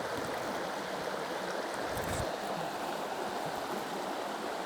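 Steady broadband rush of a bush creek flowing past fallen windfall, a close, continuous wash of water with no breaks and no voices.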